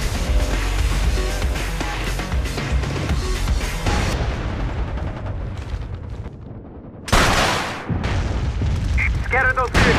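Incoming artillery fire in the video game MAG, dense rumbling booms and gunfire crashing continuously, with a sharp loud blast near the middle and chattering bursts toward the end, shouted game voices mixed in.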